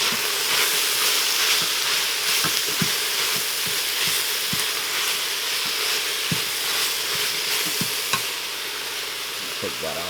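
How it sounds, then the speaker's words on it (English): Bok choy sizzles loudly with garlic in a Cosori pressure cooker, a steady close frying hiss broken by regular scraping clicks as it is stirred. "we're going to add our bok choy. Just to kind of wilt it, soften it up a little bit"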